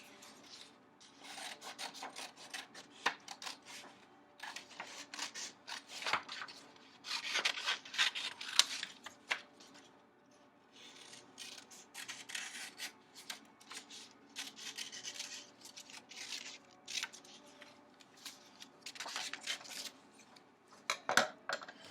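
Scissors cutting an axe shape out of a sheet of paper, heard alone as irregular close rasping snips and rustling bursts with brief pauses throughout.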